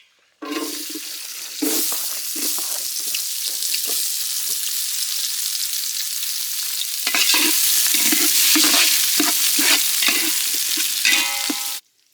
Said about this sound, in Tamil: சார் நறுக்கி வச்சுருக்க வெங்காயத்தை போட்டுக்கலாம்.